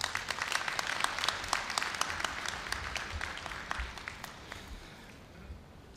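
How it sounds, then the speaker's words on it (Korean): A large audience at a Korea University graduation ceremony claps in a dense, steady round of applause that tapers off toward the end, with no speech over it. "여러분 염재호 총장님을 큰 박수로 맞이해 주시기 바랍니다."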